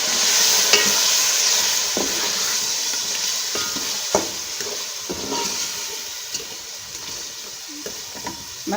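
Ground coriander, chilli and turmeric stirred and frying in hot oil in a pan, a steady soft sizzle with scraping spoon strokes at irregular intervals, close and moderately loud, no talking.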